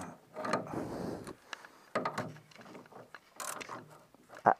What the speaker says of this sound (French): Donc je vais commencer par défaire les boulons à l'avant.